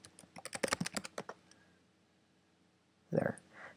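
Quick bursts of computer keyboard typing as a password is entered on an Ubuntu server setup, a rapid run of close, crisp key clicks, a pause, then a final cluster of keystrokes.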